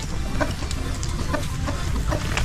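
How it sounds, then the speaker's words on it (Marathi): Large chickens cluck near a creek-side spot in Alibag, Konkan, with short repeated calls over a loud, constant background rumble. "बघा इकडे कोंबड्यांचं कसं किती मोठमोठ्या कोंबड्या आहेत"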